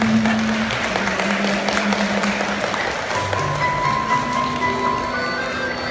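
Wedding guests applaud in a steady, dense wash of clapping that holds throughout, with tonal music or voices sounding faintly underneath.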